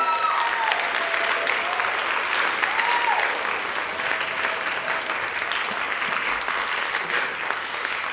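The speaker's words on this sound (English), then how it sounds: "Clap your hands if you do." An audience claps continuously and loudly at a Peter and Wendy stage performance, keeping up an even, dense roar of hands throughout, with a few faint tonal sounds drifting above it.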